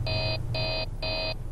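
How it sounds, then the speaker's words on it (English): Three evenly spaced electronic beeps from a ventilation alarm in a video game, each a steady high tone about a third of a second long, repeating over a low background hum. "Charlie, the ventilation alarm is beeping."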